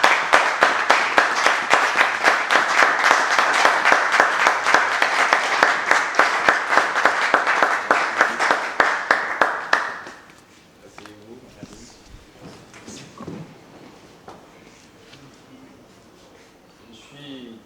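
Dense applause from a standing audience welcoming a couple at a formal gathering, steady rapid clapping for about ten seconds before breaking off abruptly, leaving quiet room murmur and faint speech.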